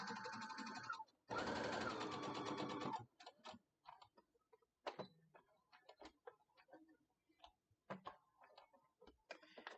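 A sewing machine stitches fabric for a notebook pencil holder in two short bursts of whirring at the start, then quiet ticking and clicking as the fabric is adjusted, close and fairly soft.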